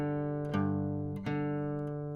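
Fingerpicked acoustic blues guitar, first string played over an alternating bass pattern: a few clear plucked notes ringing and sustaining, close and fairly quiet, with no voice.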